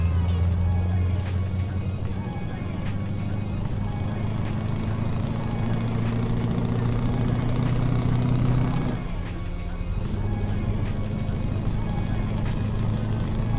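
A powerful truck in Euro Truck Simulator 2 pulls away in fifth gear, its engine droning steadily and loudly with a low hum, and the pitch changes and settles briefly near the end.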